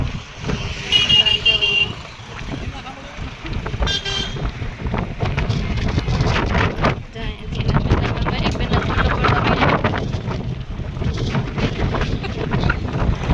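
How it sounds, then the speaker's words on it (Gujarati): Strong wind buffets the microphone on a bridge near Dwarka in a loud, continuous low rumble, with voices talking and a brief horn toot early on. "બહુ મસ્ત પવન આવે છે"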